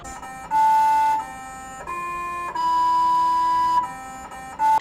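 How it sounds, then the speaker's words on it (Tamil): A simple electronic Happy Birthday melody, as played by NASA's Curiosity rover on Mars, sounds as a sequence of sustained pure beeping tones with brief gaps between notes, clean and alone. "அதில் ஹாப்பி பர்த்டே சாங்கானது ரெக்கார்டிங்காக இருக்கும்"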